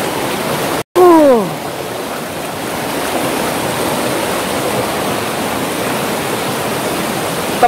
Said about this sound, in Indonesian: ini arusnya juga agak deras sungainya ini